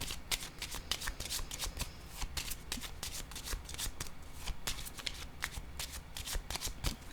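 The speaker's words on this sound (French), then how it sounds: "Je vais déposer une autre carte sur narcissique." Tarot cards shuffled and handled close up during a reading, a steady run of crisp riffling and snapping card sounds with no talk.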